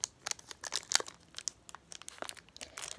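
A Pokemon card pack torn open by hand, close crinkling and ripping of foil wrapper in irregular quick bursts, fairly quiet with no talking.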